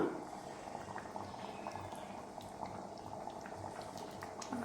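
A Kerala-style vegetable stew simmers in a pot, giving a soft, continuous bubbling boil with small pops and drips, close and fairly quiet, with no talking.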